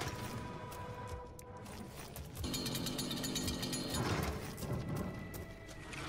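Chainsaw revving and grinding in the Doom video game, a continuous harsh buzzing roar that surges louder partway through, with jackhammer-like rattling over dense game sounds and no talk.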